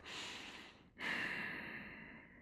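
Slow, audible breathing during a yoga lizard pose: a long soft exhale fades out, then after a brief pause a fuller, airy breath follows, close and alone.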